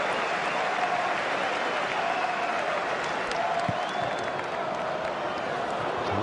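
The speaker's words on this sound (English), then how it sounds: "Good round of applause for Chamberlain." A football stadium crowd at an Arsenal versus Shrewsbury Town match applauds a player with broad, rolling clapping and background crowd noise that run continuously for about six seconds.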